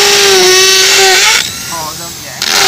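Makita M8100 hammer drill running in hammer drilling mode, a loud steady whine that changes pitch as the speed varies, then drops off briefly and starts up again.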